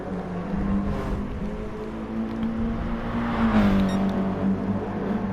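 A race car engine on the Laguna Seca track in a racing video game, running a lap on fresh tyres: a steady, close droning engine note that rises and falls slightly with throttle, with no voices.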